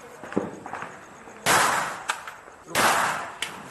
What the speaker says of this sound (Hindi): प्रतापगढ़ में युवक ने खुलेआम फायरिंग की है। फायरिंग का एक वीडियो सोशल मीडिया पर वायरल हो रहा है।